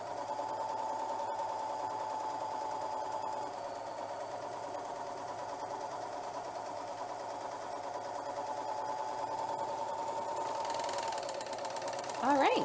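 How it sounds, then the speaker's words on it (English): A serger sewing machine runs steadily, stitching along wired ribbon for continuous bias trim, a close, even mechanical hum throughout that rises briefly near the end. "Just cut the thread and then sew down to the end."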